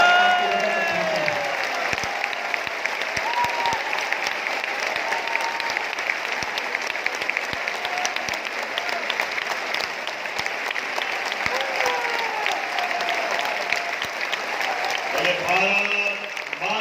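A large audience at a contract workers' conference claps loudly and steadily to welcome the chief minister, a dense sustained wall of applause that fades briefly near the end, with a voice over a loudspeaker at the start and close.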